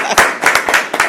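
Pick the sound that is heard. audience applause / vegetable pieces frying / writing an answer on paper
audience applause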